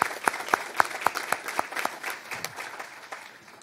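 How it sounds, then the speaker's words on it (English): A steady series of individual claps, fairly sparse and evenly paced, like a few people applauding at moderate volume. "let's give ourselves a round of applause"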